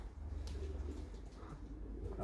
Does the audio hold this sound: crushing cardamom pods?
no